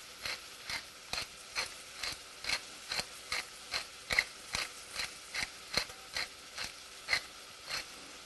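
Pepper mill grinding black pepper, a quiet series of about sixteen evenly spaced ratcheting crunches, one per turn, close and alone.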